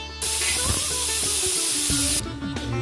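Steam rushes out with a loud, steady hiss as a pressure cooker of chicken popti is opened, lasting about two seconds before dropping away, with some clatter around it.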